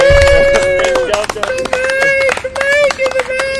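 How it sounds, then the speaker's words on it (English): Audience applause at an evening economics debate event, steady dense clapping throughout with voices and tonal chatter mixed over it. "Can I get from the audience a round of applause?"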